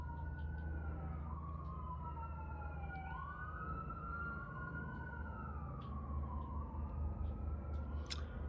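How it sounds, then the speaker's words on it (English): Wailing emergency vehicle sirens outside, several overlapping tones sweeping up and down continuously over steady low traffic rumble, moderately distant. "it's really the combo of the helicopter and the sirens for me."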